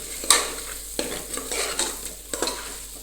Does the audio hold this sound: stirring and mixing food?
yes